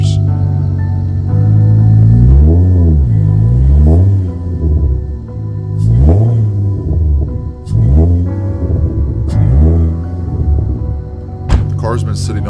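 An Infiniti G35 coupe stuck in soft ground, its engine revving up and down in repeated loud surges with wheels straining, close by, with a voice talking over it.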